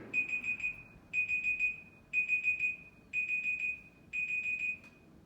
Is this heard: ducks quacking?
no